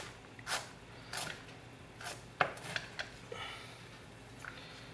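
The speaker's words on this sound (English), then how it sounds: "I'm going to chop it up real fine because the grater I don't want to clean right now." Ginger chopped finely with a knife for an udon dish with butternut squash: a quiet, close series of irregular chopping taps against a board, about six distinct knocks spread over a few seconds.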